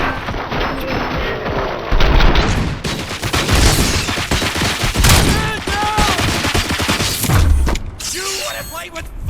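Dense, loud gunfire fills a firefight in the video game RoboCop: Rogue City, with continuous automatic bursts and impacts throughout, and voices shouting under the shooting.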